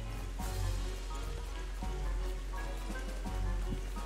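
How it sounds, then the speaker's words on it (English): Soft, continuous rain patters in a video game, a faint steady hiss with light droplet texture running for a few seconds, no voices over it. "Oh, good. It's raining."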